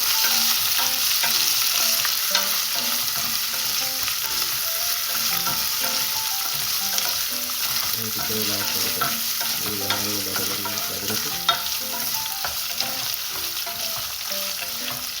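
Rice is fried in a little oil in a pan with steady sizzling, while a utensil scrapes and stirs in repeated rhythmic strokes, close and continuous, with no talking.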